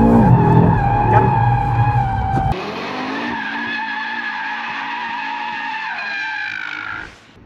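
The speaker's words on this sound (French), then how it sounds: "Je m'attendais pas à autant de dérives sur cette nouvelle Audi RS3." Tires of a 2022 Audi RS3 squeal in a long continuous skid as the car drifts at full throttle, the engine roar dropping away while the screech holds steady before stopping.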